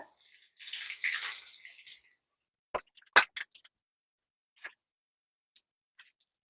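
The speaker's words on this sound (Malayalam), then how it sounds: "ഇനി ഇത് ഓരോന്നും നമുക്ക് നല്ലതുപോലെ ചൂടായ എണ്ണയിൽ ഇട്ടിട്ട് ഫ്രൈ ആക്കി എടുക്കാം" Egg bread rolls placed one by one into hot oil give a brief hissing sizzle that fades after about a second, followed by a few scattered soft pops and clicks, close and fairly quiet.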